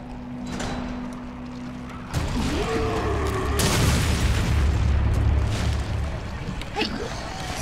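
A loud in-game explosion in the survival horror game Resident Evil Revelations 2 bursts in after a low droning hum, followed by sustained rumbling debris and a few sharper later pops, with no talk over it.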